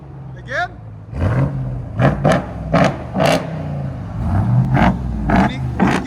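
A RAM TRX engine barks through an aftermarket exhaust in a series of loud, closely spaced revs over a steady rumbling idle, with people talking between the bursts.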